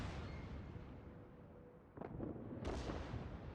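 Two heavy, booming blasts from the Fuso battleship firing high-explosive shells in World of Warships, a sharp burst and then a second louder one, rising over a steady rumbling battle ambience.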